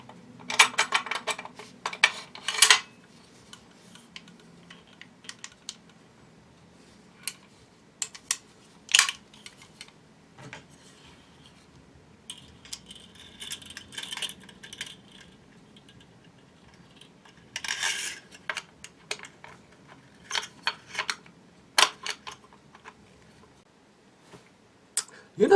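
Metallic clicks, scrapes and sliding clacks as the bolt and carrier go into a CSA VZ-58 rifle, in short bursts separated by quiet gaps, close by with a voice talking at times.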